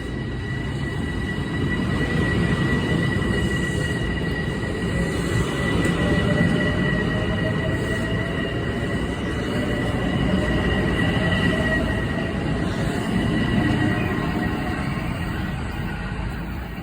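A commuter train departs, rumbling steadily along the tracks with a sustained metallic whine and faint wheel squeal, loud and continuous.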